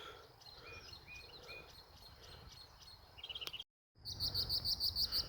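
A mockingbird calling outdoors among fleabane and milkweed, rapid repeated chirps and trills in varied phrases, moderately close, with a brief gap before a louder run of sharp repeated notes.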